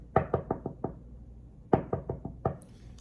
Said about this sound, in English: I'm getting one of those. A knock.